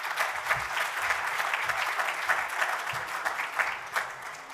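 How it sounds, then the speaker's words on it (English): A room full of people clapping steadily, a dense even patter of applause that holds for several seconds without talk. "Can we give him a round of applause"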